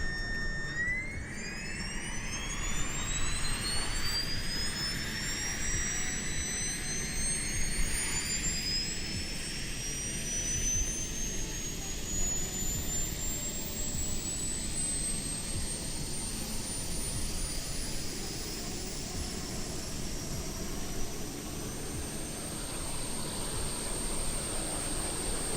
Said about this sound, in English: Another thing that I really do like about this plane is the APU startup sound. It is realistic, it is loud, ear-piercing, and really annoying